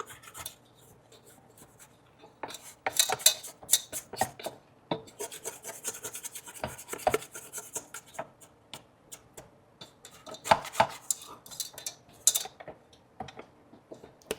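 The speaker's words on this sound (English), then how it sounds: "Let me just scrape down the edges." A spatula scrapes down the sides of a bowl of sticky bread dough, giving a series of close, irregular rasping strokes with short pauses between them, no talking.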